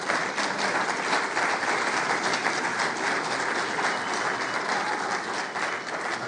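A congress audience gives a steady, dense round of applause for its president at an official anniversary opening, with even clapping sustained at moderate level throughout and no voices over it.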